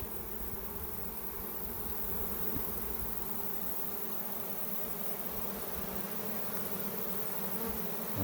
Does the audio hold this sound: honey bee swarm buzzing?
yes